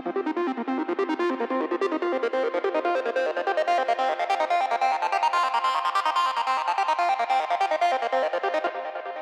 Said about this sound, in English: So one is really basic and simple arp